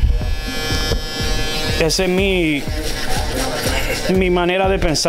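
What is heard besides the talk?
electric shaver buzzing during haircut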